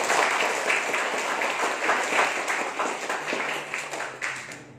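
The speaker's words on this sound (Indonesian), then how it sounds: "Tepuk tangan bagi Allah." Sustained applause from a church congregation at a Sunday family worship service, a dense wash of many hands clapping steadily for about five seconds, fairly loud and close, with no speech over it.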